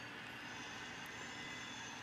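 HO scale model train layout with a Milwaukee Road SD9 and BN yard transfer, steady rolling rumble of cars on track with faint high metallic wheel squeal running continuously in the background.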